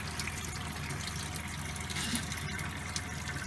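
Water flows steadily out of a newly installed reverse osmosis unit, a continuous hissing, gurgling stream heard close and fairly quiet, with no voices over it.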